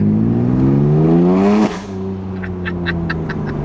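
A loud BMW M3 F81 Touring wagon engine with modified exhaust revs up with a rising exhaust drone, then cuts off sharply into a lower idle rumble with faint ticking.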